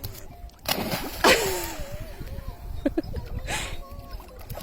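A dog leaps and splashes in bath water during a home bath. Splashes and sloshing come in bursts, close by, with a voice speaking over them.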